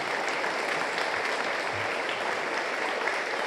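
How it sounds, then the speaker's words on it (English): An audience at a school instrumental and art show claps for a staff member, giving a steady, even round of applause that holds a constant level throughout, moderately distant, with no talking. "So please give her a big round of applause"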